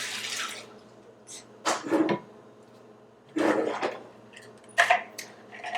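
Water is poured into a blender for a raw vegan smoothie with frozen bananas, in several short splashing bursts separated by quiet pauses.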